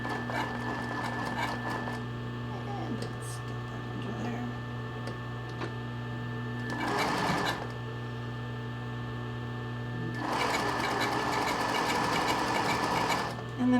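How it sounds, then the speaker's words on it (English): A sewing machine stitches straight across fabric in short bursts, its rapid mechanical whir rising twice over a steady background hum. "So I'm just going to stitch straight across it, bigger stitch"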